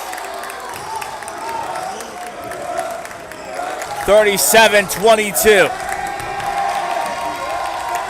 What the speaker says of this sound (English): They're cheering for Laredo Alexander.